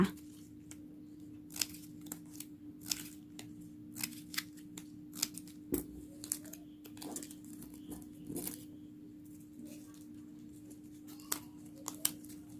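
Scissors snip the ends of ribbon while making yellow palm-flower coin favours, a series of sharp, close clicks and cuts at an irregular pace over a steady low hum, with no talking.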